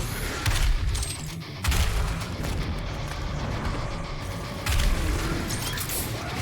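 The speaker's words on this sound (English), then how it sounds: "A grenade should sort you out." A grenade blast in Doom Eternal, with deep booming bursts rolling over a dense wash of combat noise, two heavier surges standing out amid continuous chaotic gunfire.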